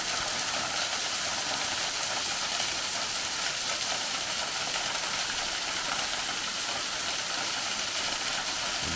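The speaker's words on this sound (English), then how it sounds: "A beautiful free-falling waterfall." Walden Creek Falls, a free-falling waterfall near Dahlonega, Georgia, pours with a constant broadband rushing roar, steady and close with no pauses or voices.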